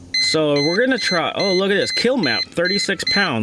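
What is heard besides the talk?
beeping during ECU reflash of 2019 Subaru WRX STI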